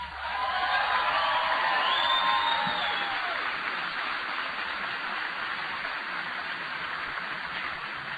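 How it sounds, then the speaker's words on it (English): A large crowd at a military welcome event for an Air Expeditionary Wing gives a steady, loud wash of applause and cheering, sustained throughout with occasional whoops rising above it. "Give them a big round of applause."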